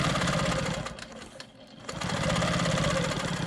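A home sewing machine stitches a quilt block for an Ohio Star pattern, guided along a ruler: a fast, continuous mechanical whir that briefly eases and dips around the middle before running steadily again, close and loud.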